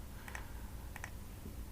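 A few faint, quick key clicks on a computer keyboard while an Nmap command is typed into a terminal, landing in two brief clusters over low background hum.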